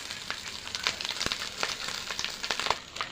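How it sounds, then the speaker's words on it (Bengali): Rice stir-fried in a pan with egg, beans and tomato for a mixed paneer fried rice, giving a steady close sizzle broken by repeated scraping and stirring strokes from the spatula, with no talk. "একটু নেড়ে নেবো ভালোভাবে।"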